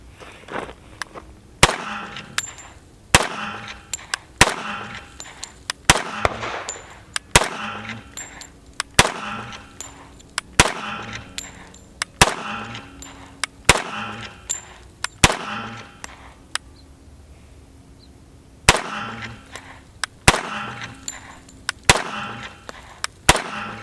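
An FNX-45 pistol fires slow, evenly spaced shots while cycling through a ProMag magazine at a range, each sharp loud report standing alone with a short pause around the middle.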